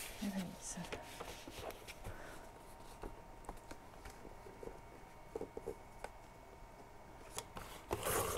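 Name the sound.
scissors trimming the edges of a notebook cover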